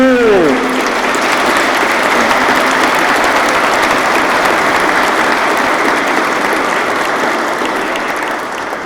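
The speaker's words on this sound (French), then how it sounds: "on t'applaudit Kenny, bravo." A church congregation at an Easter Sunday service bursts into loud, sustained applause that fills the space evenly for about nine seconds and fades slightly at the end.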